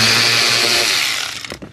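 Power tool whirring steadily as 7mm bolts come out of the blower motor cover on a 2005 Chevy Silverado 2500HD, loud and close, winding down at the end.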